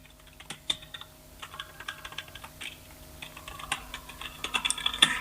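Typing on a computer keyboard while writing a Word document, irregular bursts of close key clicks that grow busier toward the end, no talking.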